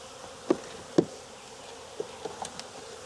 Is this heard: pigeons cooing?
no